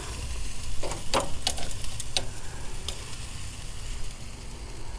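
Honey pineapple glazed spare ribs sizzle steadily on a hot surface just after being flipped, a close continuous frying hiss with a few light ticks and clicks, no speech.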